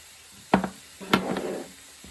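Seasoned beef with peppers and onions is stirred in a pan, two or three distinct scraping clunks of a utensil against the pan over a faint background, no talking.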